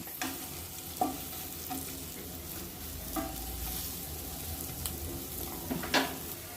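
Eggs being slowly stirred in a frying pan: a steady, quiet sizzle runs throughout, broken by a few light clicks and scrapes of a spoon against the pan.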